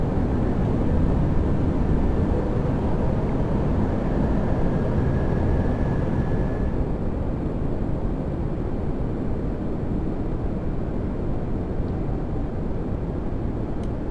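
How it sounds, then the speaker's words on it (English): An airliner on approach to Skardu Runway 14 lowers its flaps and landing gear, heard as a steady, loud broadband roar of engines and airflow that holds nearly unchanged throughout, with no voices. "So lowering the flaps and landing gear down."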